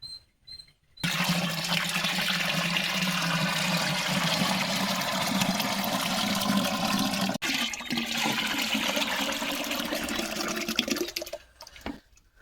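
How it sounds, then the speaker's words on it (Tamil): Dissolved cow dung slurry is poured into water while mixing amirtha karaisal, an organic farm solution, making a loud, steady rushing gush that lasts about ten seconds with a short break before tapering off. "இந்த சாணத்தை அந்த தண்ணிக்குள்ளே ஊற்றலாம்"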